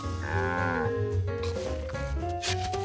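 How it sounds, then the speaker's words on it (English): A cartoon cow moos in a Curious George episode, a few drawn-out, tonal lowing calls that bend and shift pitch over a steady background bed, close and clear. "A cow."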